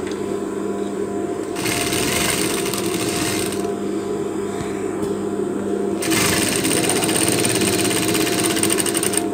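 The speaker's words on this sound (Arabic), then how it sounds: "اذا غادي نخيط على هاد الشكل هذا، غادي نمشي فوق الخياطه ديالي" A sewing machine stitches a zipper into a leather jacket sleeve in two rapid bursts of mechanical chatter, separated by quieter pauses with a low motor hum.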